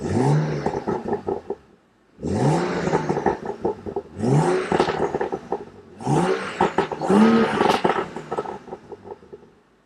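A salvage BMW with its exhaust valves open in Sport Plus mode revs four times, each loud, close blip rising sharply and then falling away, with brief near-silent gaps between the bursts.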